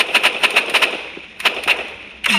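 Rapid bursts of game gunfire, sharp repeated shots in quick clusters with brief pauses between them.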